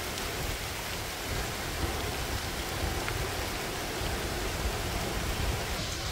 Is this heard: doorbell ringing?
no